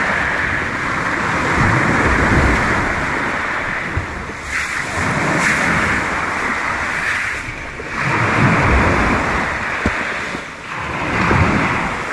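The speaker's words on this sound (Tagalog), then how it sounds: "Lakas ng alon, no?" Loud surf crashes and washes in repeated surges, mixed with gusty wind buffeting the microphone.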